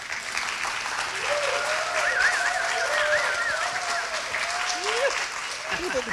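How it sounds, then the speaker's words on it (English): Sustained, loud audience applause from a comedy show crowd for a comedian's mother, steady throughout with a few whistles and cheers rising over the clapping. "let's have another huge round of applause for my favorite mother and yours"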